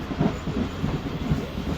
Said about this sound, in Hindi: यस, काफ़ी स्लो जा रही है ट्रेन मीटिंग रेलवे स्टेशन से।